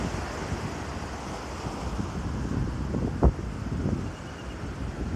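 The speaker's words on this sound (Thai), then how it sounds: "คลื่นค่อนข้างแรง" Strong sea waves breaking at a beach with gusty wind buffeting the microphone, a continuous loud roar and wash.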